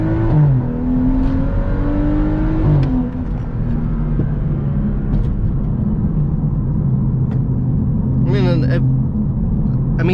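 A BMW 435i pulls hard in second gear, its engine note climbing and rumbling loudly from inside the cabin, with a shift partway through and a voice speaking over the drive.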